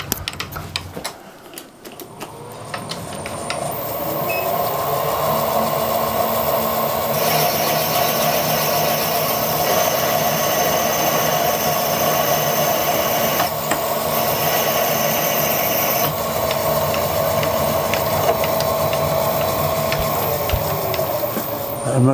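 A drill bores into a cast iron part during a BSF thread repair, holding a loud, steady grinding whine for about twenty seconds after a brief uneven start.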